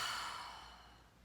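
A single slow, breathy exhale during a relaxing meditation breathing exercise, close and soft, fading steadily over about a second with no talk over it.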